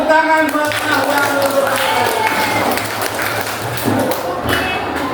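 A school classroom audience claps for a student, a dense burst of many hands with thuds and taps, loud and close, over background chatter and voices.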